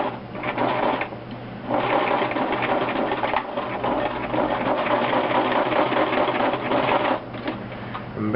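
A sewing machine stitches a pant hem with a steady mechanical whirr, pausing briefly twice before running on again close up.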